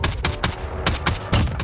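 Bursts of rapid Call of Duty: Warzone gunfire crackle in several volleys, loud and close, with broadband shots repeating over a steady background rumble.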